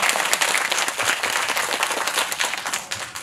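A cinema audience at a special film screening event with zookeepers applauds together, a loud, continuous burst of clapping filling the whole stretch without talk.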